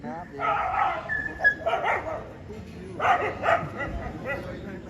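A dog barks and yips a few times in short bursts, mixed with people talking nearby.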